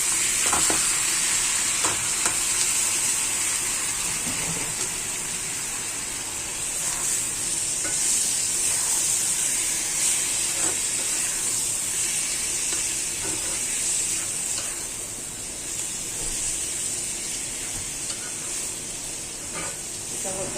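Vegetables frying in oil with ginger paste in a home kitchen pan, a loud, steady hissing sizzle that runs unbroken throughout at close range.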